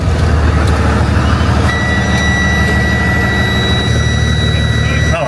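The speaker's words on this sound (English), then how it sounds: "Turn the truck on." Box truck engine idling steadily and loud throughout, a constant low rumble with a faint tonal whine joining partway, plus a quiet intermittent beeping.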